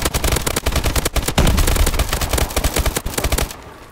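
Dense, rapid automatic gunfire from Call of Duty: Advanced Warfare, loud and sustained for nearly four seconds in a dense rattling stream that cuts off abruptly near the end.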